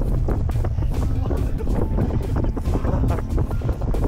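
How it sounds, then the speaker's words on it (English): Strong wind roars and buffets the microphone on a small fishing boat in rough, dangerous water, a continuous loud rumble with choppy gusts and splashy texture, no clear speech. "the wind's pushing me."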